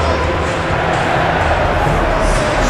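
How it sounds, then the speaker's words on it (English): Large stadium crowd at a Premier League match between Aston Villa and Leicester City in PES 2021, a steady dense roar of many voices with no distinct peaks, loud and continuous throughout. "that hasn't affected the crowd, who are here in good number and indeed in good voice"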